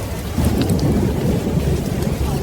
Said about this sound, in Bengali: এক মুহূর্তেই ঝমঝম করে শুরু হলো মুষলধারে বৃষ্টি, সঙ্গে বজ্রপাতের ঝলকানি।